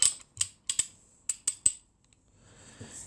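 Torque wrench set to 90 having its handle turned and locked: a series of about six sharp, close mechanical clicks and ratchet snaps in uneven rhythm, then a quiet low rustle.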